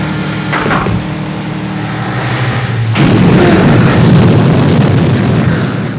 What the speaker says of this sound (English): That's a real explosion.